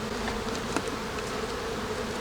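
Honey bees hum steadily around an open beehive with stacked brood boxes, a dense continuous buzzing drone close by, with an occasional louder bee passing near.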